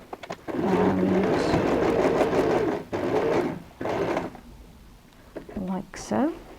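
A sewing machine back stitching and turning the corners of a handle on a magazine-print handbag with mitered handles, running in steady bursts of a few seconds each, with short pauses between and brief talk near the end.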